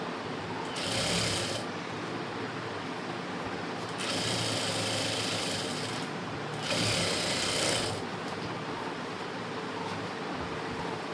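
A sewing machine stitches the lining of an embroidered blouse, its buzzing runs coming and going over a constant, dense background hiss, moderately loud with no voices.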